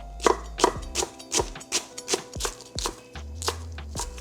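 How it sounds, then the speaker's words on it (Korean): A knife chops green onion into large pieces on a cutting board, about a dozen crisp, evenly spaced strokes close up, with soft music beneath. "대파는 큼직하게 어서 썰어서 준비할게요"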